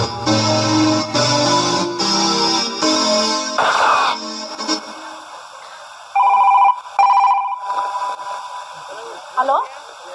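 A telephone rings as a call is placed to the police during a village stage drama. Two short tonal ringing bursts come late, after a stretch of music and effects.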